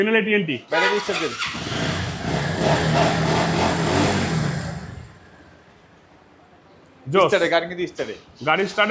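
A motorcycle with CBS brakes and double disc brakes revs hard at a used-bike showroom in Bangladesh. It gives a loud, sustained roar for about four seconds, then drops to a quiet idle. Voices talk before and after the rev.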